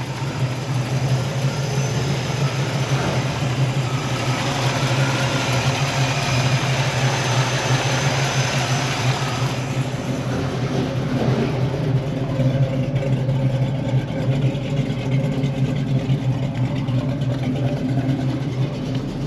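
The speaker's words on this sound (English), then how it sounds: "Nice and smooth, the engine sounds good." A 1968 Chevrolet Camaro's engine runs steadily, not fully warmed, with a continuous low rumble and smooth idle that holds evenly throughout at close range, with no talking.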